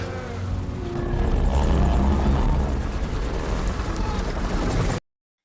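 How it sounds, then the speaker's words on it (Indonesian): A loud, steady helicopter rotor on Mount Everest thrums with a rhythmic chopping pulse and roaring engine, holding strong before cutting off abruptly at the end. "Helikopter didatangkan untuk membawa Beck turun"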